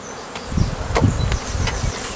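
Honey bees buzz steadily around a group of six colonies, including small nucleus hives, some outdoors; a dense continuous hum with individual bees passing close by, no talking.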